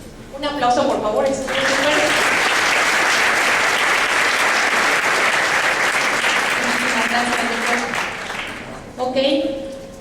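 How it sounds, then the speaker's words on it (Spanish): A voice speaks briefly, then a conference audience breaks into loud, sustained applause that fades out as the voice resumes. "Un aplauso, por favor."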